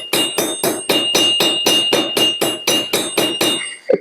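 A hammer strikes metal on an anvil in a steady series of about a dozen sharp, ringing blows, loud and close, followed by a softer final tap.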